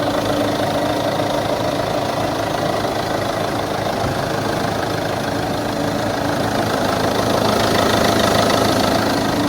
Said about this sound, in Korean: 엔진 소리 아주 좋고요